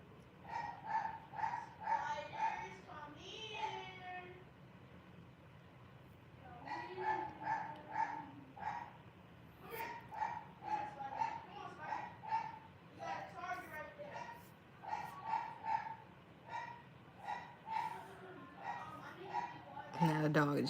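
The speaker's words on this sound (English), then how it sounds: "Now the dog is just loud." A dog barks and yips in short bursts from a moderate distance, with some whimpering between, recurring over about twenty seconds under a quiet background.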